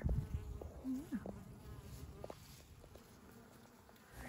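Honey bees buzz faintly at an open beehive on a farm that also keeps Idaho Pasture Pigs. The drone is thin and distant, with a few brief rustles and no talking.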